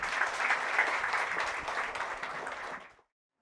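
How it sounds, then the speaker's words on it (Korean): An audience applauds after a lecture on university admissions strategy, steady full clapping from a crowded room that fades and stops abruptly near the end. "다시 한번 큰 박수 부탁드리겠습니다."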